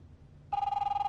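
A telephone in The Wolf Among Us video game starts ringing partway through, a bright electronic trill that pulses rapidly after a quiet opening.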